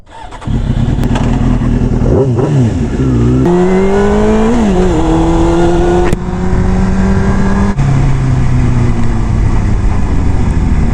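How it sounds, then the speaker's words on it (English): A Suzuki GSX-R motorcycle engine roars close and loud throughout, pulling up through the gears with rising revs, brief dips at each shift, then steady high-rpm running. "Let's go ahead and ride this thing."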